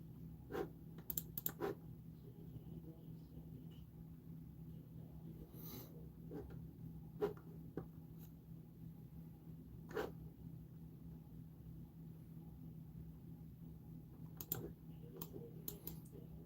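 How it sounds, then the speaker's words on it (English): A computer mouse clicking during Roblox play at a home desk, sparse sharp clicks scattered irregularly over a steady low hum, fairly quiet and close, with no talking. "Oh, that's my mouse."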